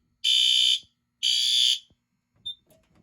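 A fire alarm system sounds its general alarm from a basement manual pull station: two loud, shrill electronic blasts, each about half a second long, then a brief chirp and quiet.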